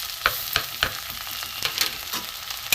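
Grated ginger, ground cumin, coriander, chili, turmeric, salt and garam masala are stir-fried with potatoes in a pan, producing a continuous close sizzle punctuated by about eight crisp, evenly spaced scraping strokes of a spoon, with no voices.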